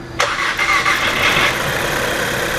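A 2008 Audi A4 with an oil pressure problem cranks and fires up close by, settling straight into a steady, loud idle with no voices.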